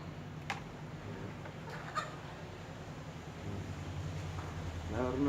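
A rooster making brief clucks over a constant noisy background hiss, with someone talking near the end.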